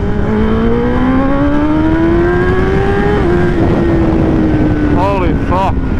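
A 2023 Kawasaki ZX10RR sportbike being ridden revs loud and close, its whining engine tone climbing steadily, dipping briefly at a shift midway, then pulling on amid rushing wind noise.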